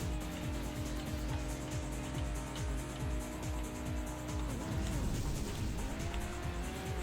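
A toy-style race car in the video game Hot Wheels World Race speeds and drifts through a sharp corner. The engine whines and rises through repeated gear sweeps, and the tires squeal and skid. The sound is loud and continuous, with no talking.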